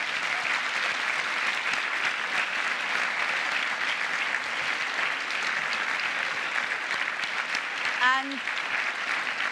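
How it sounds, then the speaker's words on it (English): Steady applause from a conference audience at a London gathering fills the room, a dense continuous patter of many hands, with a brief voice coming through near the end. "So a massive round of applause to the speakers"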